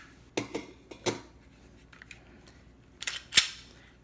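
Glock 43X single-stack pistol handled and dry-fired with the magazine out: a series of small mechanical clicks and metallic clacks, ending in one sharp snap, close and fairly quiet.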